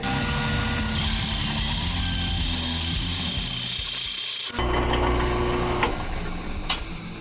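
A 9-inch disc grinder grinds aluminum, a loud continuous abrasive roar with steady motor hum that shifts in tone partway through as the pressure or speed changes.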